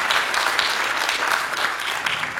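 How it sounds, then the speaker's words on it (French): An audience at an alumni general assembly on the AgroParisTech campus in Palaiseau applauds, a dense, even wash of many hands clapping, loud and sustained throughout. "Alors, on applaudit Gilles Tristram qui est en ligne."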